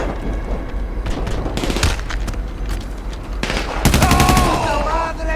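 Gunfire in the video game Grand Theft Auto V Online: repeated bursts of automatic weapon fire and scattered shots across a chaotic firefight, with a loud rapid burst near the end, and game voices shouting underneath.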